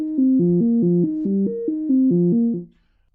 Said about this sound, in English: you will hear the filter modulating like it just did, but this will not be synchronized with the speed of the sequencer